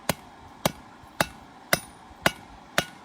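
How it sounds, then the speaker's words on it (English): Cross peen mallet striking metal while forging a caulking iron, six sharp, evenly spaced blows about half a second apart, close and clear with no talk. "I'm going to switch over to a different mallet. This is what's called a cross peen."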